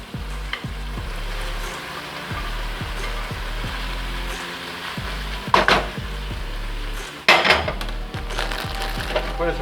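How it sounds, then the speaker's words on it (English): Potatoes go into a hot pot for Japanese curry with a steady sizzle and rhythmic stirring scrapes, then two louder clattering bursts near the end. "So, dump in the potatoes."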